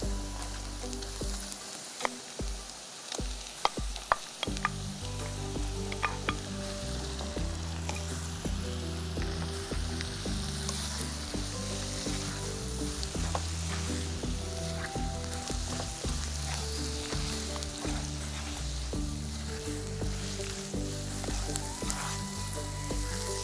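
Shrimp frying in a pan for Kerala-style chemmeen theeyal, a steady loud sizzle with occasional stirring clatter near the start, close up with no talking.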